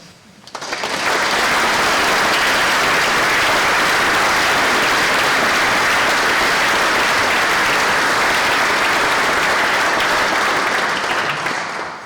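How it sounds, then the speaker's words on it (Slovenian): Loud, sustained applause from a church congregation at a ceremony marking a church restoration, dense clapping swelling in quickly and holding for about eleven seconds before easing off. "da gospodu Gabršeku namenimo en aplavz"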